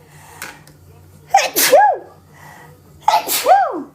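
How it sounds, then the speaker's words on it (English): Two sneezes, each with a sharp intake of breath before a loud, close burst, separated by a short pause. "Ooh, I gotta sneeze."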